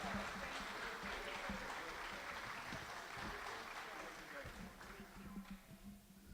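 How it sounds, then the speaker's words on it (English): Applause from the audience at a Rotary Club senior talent show, a steady wash of clapping that tapers off, fairly distant and soft, with voices talking over it. "Let's give another round of applause."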